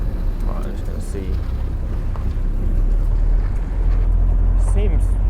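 A Triumph Spitfire sports car's engine drones in second gear while driving, a low continuous rumble that swells slightly, mixed with heavy wind buffeting as someone talks over it.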